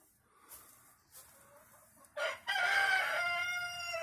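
Hens cluck in a backyard coop set up inside a carport, followed by a loud, close rooster crow that rings out over continued clucking.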